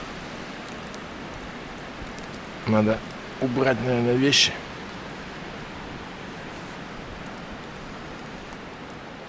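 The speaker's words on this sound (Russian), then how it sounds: "Все, дождь пошел." A steady, hissing wash of rain falls continuously in a forest, with a person briefly speaking close by partway through.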